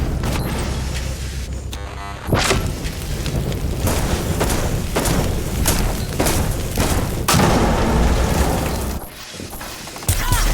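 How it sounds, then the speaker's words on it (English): Grenade blast in a Rainbow Six Siege match, a loud booming burst followed by a run of sharp gunfire cracks, crashes and thuds up close. "Grenade!"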